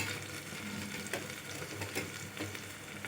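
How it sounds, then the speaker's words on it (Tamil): Onions sizzle steadily in a hot pan, sautéing until golden for goat trotter paya, a continuous soft crackling hiss with occasional faint stirring scrapes, and no voices. "வெங்காயம் கொஞ்சம் பொன்னிறமாகவே வதக்கணும்"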